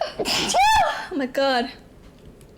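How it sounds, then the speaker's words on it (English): A sharp, sudden sneeze bursts out, followed right away by a startled spoken exclamation and a brief vocal reaction. "That was a very loud sneeze."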